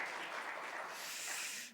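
A church congregation applauds during a Sunday morning worship service, a steady, dense wash of many hands clapping together that fades out at the very end, with no speech over it.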